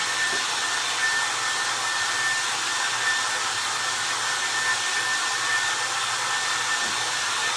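A hair dryer blows steadily and loudly for the whole stretch, drying a freshly painted tin can that is being made into a vintage campfire marshmallow tin; the airflow holds a constant broadband roar with a faint steady whine.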